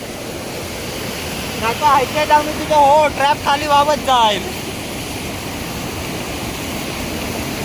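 A waterfall below a stream bank pours out a steady, broadband roar in light rain during a crab-trapping outing, with someone speaking over it briefly midway.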